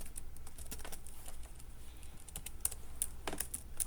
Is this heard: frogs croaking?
no